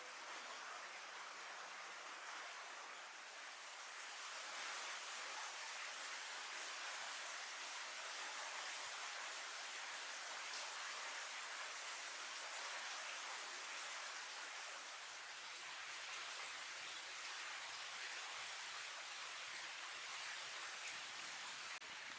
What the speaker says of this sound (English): navigating this very loud tunnel with an active waterfall going through it